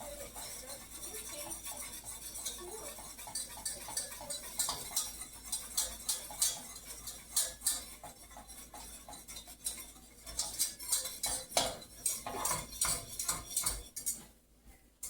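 Butter being whisked nonstop in a pan, a quick rapid ticking of the whisk against the metal that runs in bursts, close but fairly soft, with no one speaking.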